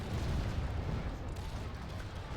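Cannon artillery fire in a Total War battle, a dense continuous rumble of booms and battle noise rolling through the whole stretch, loud and steady with no clear gaps.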